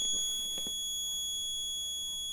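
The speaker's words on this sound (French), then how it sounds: "ça fait bip, la prise ça se déclenche" Connected smart plug controlling a pump for a leaking hot water tank gives steady high electronic beep tones that hold on continuously, fairly faint, with a few soft clicks and handling noises underneath.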